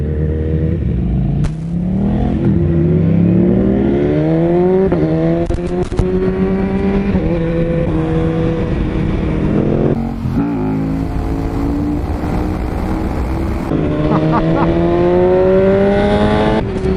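A KTM Super Duke R motorcycle rides off, its engine revving up through the gears in rising, falling sweeps, loud and close, with brief gear-change dips between pulls.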